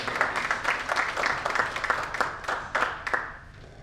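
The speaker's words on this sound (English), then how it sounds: "A round of applause for Dr. Muzammil." Applause from an audience at an awards event in a hotel banquet hall, honoring a Man of the Year recipient; dense, steady clapping from many hands throughout, easing off slightly at the end.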